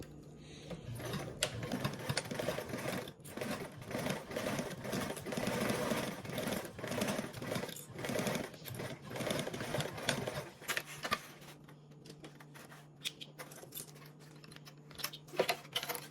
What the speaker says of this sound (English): we're going to sew across our bottom with the 3/8 seam allowance